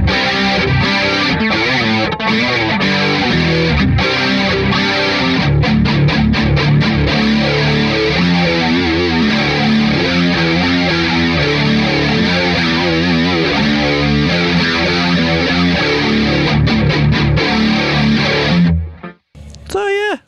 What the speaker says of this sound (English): This is what the chorus sounds like with it on the distortion.